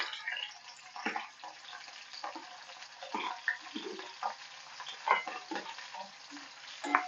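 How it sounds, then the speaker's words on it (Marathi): Green chilies fry in hot oil in a kadhai for fasting bhagar, giving a steady close sizzle broken by frequent sharp crackles and pops with no talking. "मिरच्या चांगल्या तडतडून द्यायच्या"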